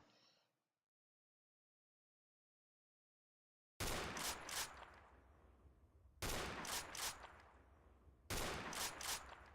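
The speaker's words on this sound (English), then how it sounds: "So we've got the Henry rifle. It's a bit quieter." Henry rifle shots in a video game: a short sound cuts off into silence, then three loud, sharp gunshots follow at spaced intervals, each trailing into a brief echoing tail.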